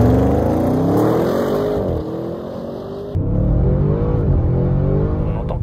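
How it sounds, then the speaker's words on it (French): A deep, throaty V8 engine of a Mercedes-AMG E63 S estate rumbling steadily and loudly, its pitch rising and dipping with a brief drop in the middle before surging again. "toute la quintessence et la sonorité hein, du V8"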